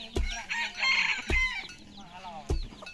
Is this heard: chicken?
yes